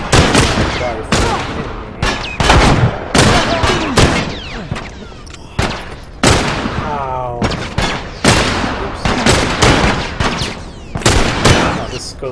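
Gunfire erupts during a bandit attack in the video game The Last of Us: loud, rapid shots and bursts crack repeatedly throughout, close and sharp, while voices shout over the shooting.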